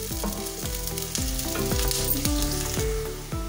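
Onions fry in a pan for daal mash with a dense, steady sizzle under a run of regular spoon scrapes and knocks against the pan, close and loud with no talking.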